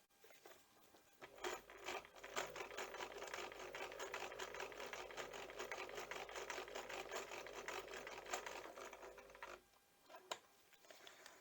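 Regular sewing machine running a zigzag stitch to sew on a button, a steady close mechanical whir with rapid needle patter for about eight seconds, then stopping with a few soft clicks.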